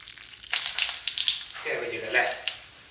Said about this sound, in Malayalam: ഇതാ നമ്മൾ ചട്ടിയിൽ വെളിച്ചെണ്ണ വാരാം. പിന്നെ അതിൽ കടുക്, വറ്റൽമുളക് അത് രണ്ടും ചേർത്തിട്ട് നമുക്ക് വഴറ്റിയെടുക്കാം.